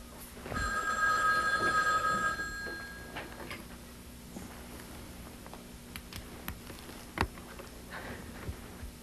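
An old-style telephone bell rings once in a bright metallic burst, then gives way to quiet room noise with scattered small knocks and clicks.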